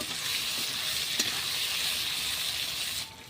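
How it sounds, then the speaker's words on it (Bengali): Chopped onions frying in hot oil for a spinach and egg dish, a steady close sizzle with a faint stir scrape, fading near the end. "এখন দিয়ে দেবো পেঁয়াজ কুচি। পেঁয়াজগুলো একটু লাল লাল করে ভেজে নেব"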